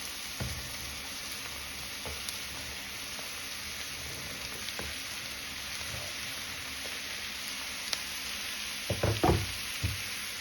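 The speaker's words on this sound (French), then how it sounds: "Je laisse bien cuire ma courgette et mes oignons ensemble." Sliced zucchini and onions fry together in a pan for a quiche filling, a soft continuous sizzle with scattered light clicks and a few louder utensil knocks toward the end.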